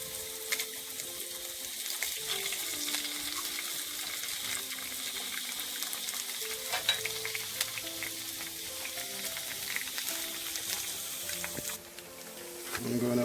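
An egg fries in a pan of rice left over from the night before. A steady, close sizzle and crackle carries on throughout with light scraping and stirring noises and a faint tonal hum underneath.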